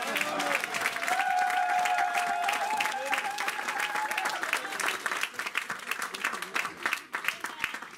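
A church congregation applauds loudly with dense clapping and cheering voices, tapering off toward the end into scattered claps.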